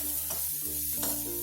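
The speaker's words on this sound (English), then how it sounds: "Give this a very good mix" Sprouted moth beans being stirred with goda masala in a hot pan, a steady sizzle and fry with scraping stir strokes, close and continuous, no voices.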